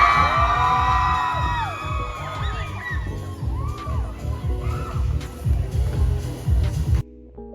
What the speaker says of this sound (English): Fans could be seen cheering the drivers on